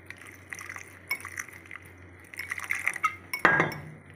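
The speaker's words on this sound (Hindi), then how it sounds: "अब हम इसमें थोड़ा सा पानी डालेंगे।" Water is added to a flour and cornflour batter in a bowl, with light glass clinks and a brief splashy pour near the end, quiet and close.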